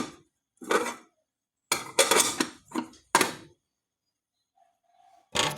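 A metal cooking pot is handled with several separate bursts of clanking and scraping, close and fairly loud, broken up by stretches of near silence and a faint tone near the end.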